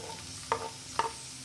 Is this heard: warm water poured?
no